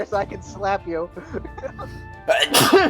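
A sneeze bursts out loudly near the end, following a stretch of people talking back and forth.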